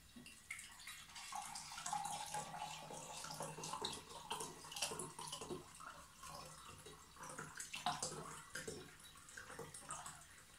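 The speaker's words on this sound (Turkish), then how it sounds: "Ve zaman kazanmak için etil alkolü süzülürken suyumu da karışımın içerisine ilave ettim." Drinking water is poured into an ethyl alcohol mixture while making grape raki, giving a steady, close trickling and splashing stream with small drips throughout.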